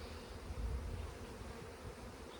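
Honey bees hum in a dense, continuous buzz around an opened hive frame, a soft and steady drone with no voices.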